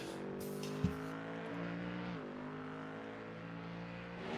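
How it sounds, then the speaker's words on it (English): A Ford Mustang race car engine in iRacing roars steadily with a deep, sustained harmonic drone, the pitch dipping briefly midway as it shifts, with a sharp knock near the start, during a multi-class IMSA race at Portland International Raceway. "that Ford Mustang, it sounds good, doesn't it"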